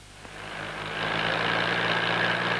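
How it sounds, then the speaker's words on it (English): Vintage International track tractors rumble along in procession, a loud, steady low engine drone that swells in the first second and then holds constant. "Here they are, the 4 of them in proud procession. Track tractor power on parade."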